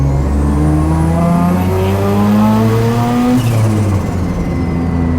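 Mazda turbo rotary engine swapped into a classic 1980s Ford revving hard and climbing steadily in pitch, loud and close with a continuous buzzing drone, with no speech over it.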